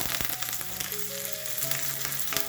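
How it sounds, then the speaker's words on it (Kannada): Mustard seeds, cumin, asafoetida and curry leaves crackle and sizzle in hot oil, a steady close frying hiss with sharp pops and spatters throughout. "ನೋಡಿ ಎಣ್ಣೆ ಚೆನ್ನಾಗಿ ಕಾಯ್ದ ನಂತರ ಇದ್ರೊಳಗಡೆ ಸಾಸಿವೆ ಹಾಕೊಳ್ಳೋಣ, ಸ್ವಲ್ಪ ಜೀರಿಗೆ ಹಾಕೊಳ್ಳೋಣ, ಸ್ವಲ್ಪ ಹಿಂಗ ಹಾಕೊಳ್ಳೋಣ, ಆಮೇಲೆ ಕರಿಬೇವಿನ ಸೊಪ್ಪನ್ನು ಹಾಕೊಳ್ಳೋಣ"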